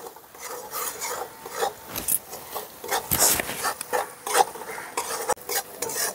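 A spoon scrapes and stirs spice masala with onion in a pan, rough rasping strokes coming in irregular bursts over a soft sizzle, close and fairly quiet.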